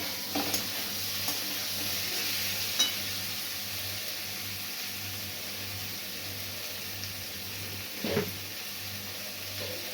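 Spices for a fish curry with potatoes and cauliflower fry in a pan, a constant soft sizzle with a low background hum and a few brief utensil knocks.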